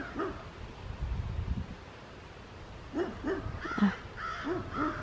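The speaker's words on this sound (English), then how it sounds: "I talked to the dog, the neighbor's dog" A neighbour's dog outdoors gives a few short, distant barks in quick succession, mixed with crow-like caws against a quiet background.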